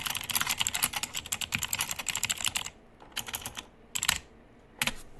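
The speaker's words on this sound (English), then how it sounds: "I'm going to type that in." Rapid, crisp keystrokes on a computer keyboard clatter in a dense burst, then break into a few shorter flurries separated by pauses.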